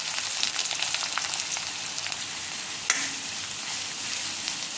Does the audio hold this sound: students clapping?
no